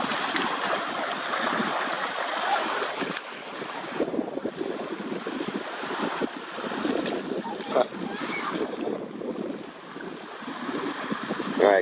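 Waves wash and splash continuously onto a shore, loud and close, with heavy wind buffeting the microphone throughout and no talking.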